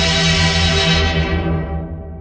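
A granular sampler in fragments mode in Bitwig 6.1 produces a dense, sustained texture of layered tonal fragments forming a steady, loud drone that thins out in the highs toward the end.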